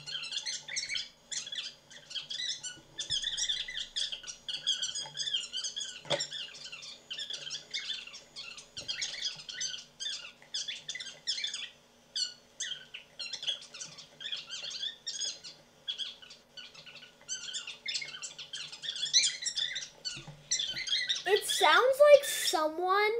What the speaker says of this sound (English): Sounds like someone is squeaking a rubber duck and then speeding it up.